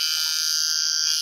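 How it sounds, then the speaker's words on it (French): A small handheld mini sander trims a resin part of a 1/24-scale AMT kit of a 1959 Cadillac ambulance, giving a brief, steady high-pitched whine close up. "ma petite mini ponceuse"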